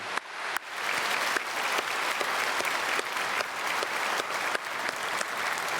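A large church congregation applauds steadily for several seconds during a Sunday service, a dense, continuous clapping that fills the room with no voices over it.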